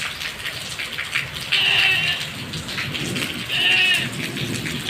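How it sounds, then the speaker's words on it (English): Heavy rain falls steadily on a village in Pakistan, a dense continuous patter with a couple of louder bursts, and animals faintly bleat or cry in the background. "it is raining heavily outside here"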